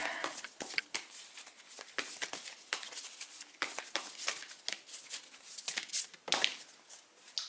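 Tarot cards being shuffled by hand, a steady run of soft papery riffles and flicks at close range, with no talking over it.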